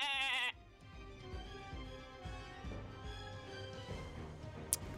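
A human voice imitates a sheep with a short, wavering bleat at the very start, then gives way to a low musical background during a Dungeons & Dragons session.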